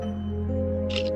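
A camera shutter clicks once in a Minecraft horror map, a brief crisp snap near the end over a low, steady droning background.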